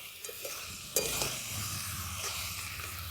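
Duck meat sizzles as it is fried and stirred in a pan with ginger, onion, garlic, chilli, turmeric and salt, a steady hiss with a sharp scrape of the spatula early on; no speech.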